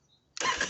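A Honda Africa Twin 1100 DCT motorcycle cranks and fires up abruptly after a moment of near silence, settling straight into a loud, close running engine.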